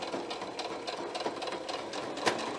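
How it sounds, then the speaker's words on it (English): Sewing machine stitching pixie wings onto a top, a steady close rapid whirring hum running continuously with slight fluctuations, no talking. "now we're ready to sew down the line."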